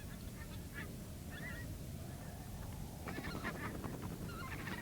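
Geese on tundra nesting grounds honk in scattered calls over a steady low outdoor rumble, a few nearer honks rising together toward the end.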